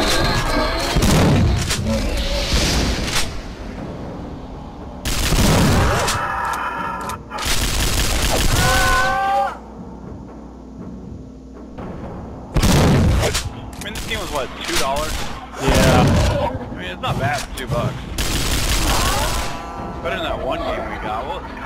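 Weapon alternate fire in the horror shooter Unloved: loud bursts of blasts and booming gunfire in several separate volleys, close and heavy, with quieter stretches between and a voice talking at times.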